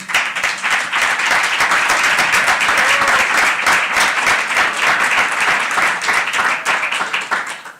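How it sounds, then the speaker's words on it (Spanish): Loud, sustained audience applause at a talk on cultural rights and democracy: a dense wall of many hands clapping close by that continues steadily throughout. "Jazmín Beirac, fuerte el aplauso."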